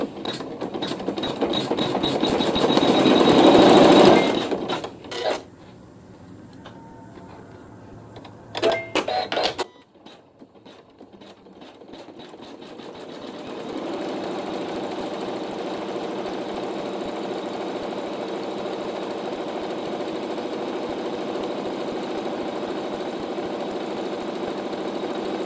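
Sewing machine satin stitching a quilt sandwich for a County Fair Farmer's Market block, with a loud burst of rapid stitching, short pauses and brief clicks, then a steadier, quieter machine hum.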